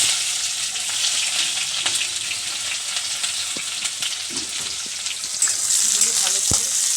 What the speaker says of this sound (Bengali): আমি এই যে অল্প সাদা জিরে দিয়ে দেবো। দেওয়ার পর এবারে পেঁয়াজ, আদা, রসুন এগুলো সব দিয়ে দেবো।